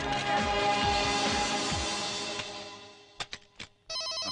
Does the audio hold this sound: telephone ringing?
yes